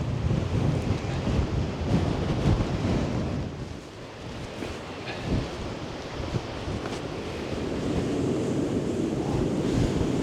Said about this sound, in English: But it's still windy down here as well.